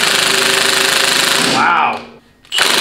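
A power tool, likely an impact wrench, working a bolt loose on a VW trike being fitted with tracks: a loud continuous rapid hammering rattle that cuts out briefly, then starts again.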